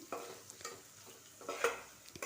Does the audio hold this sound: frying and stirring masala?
yes